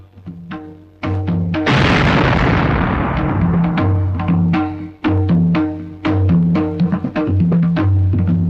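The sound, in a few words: paper bomb hidden in a hat exploding, movie sound effect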